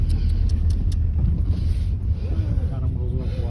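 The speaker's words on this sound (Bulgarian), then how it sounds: "Карам розова кола." Low steady rumble of a pink car driving along a road, heard from inside with creaks and rattles of the cabin and brief faint voice fragments over the engine and road noise.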